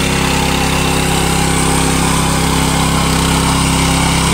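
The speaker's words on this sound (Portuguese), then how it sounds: "modo cultivador, BFG Master da Búfalo" Búfalo BFG Master motor tiller running in cultivator mode, a steady loud small-engine drone with a constant throbbing hum that holds at one level throughout, close by and unbroken by talk.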